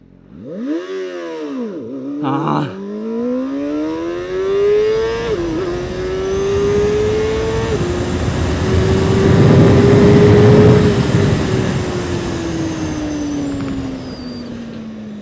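A CFMoto Voom 500 SR motorcycle engine revs up with a rising whine, then holds a high, steady roar that slowly eases, heard up close.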